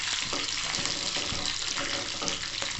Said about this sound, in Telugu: ఆయిల్ వేడైన తర్వాత కరివేపాకుని వేద్దాం